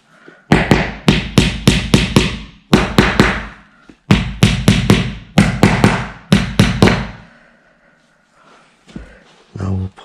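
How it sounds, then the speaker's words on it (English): Hammer tapping plastic plugs into an Ikea Gnedby shelving unit, loud close blows in quick bursts of four to six strikes with short pauses, then quieter handling noises near the end. "We'll get our hammer."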